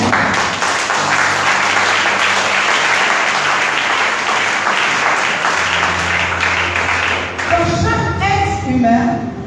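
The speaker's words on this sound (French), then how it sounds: "Si tu comprends, acclame." A church congregation claps and cheers loudly in a full, continuous roar of hands and voices, with a sustained tone underneath; near the end the applause gives way to a voice and music-like tones.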